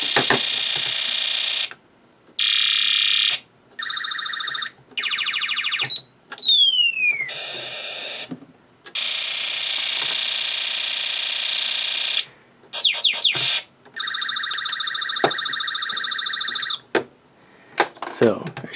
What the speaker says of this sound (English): our Space War IC tests good, and our photoresistor tests good because the sounds were changing every time I was covering our photoresistor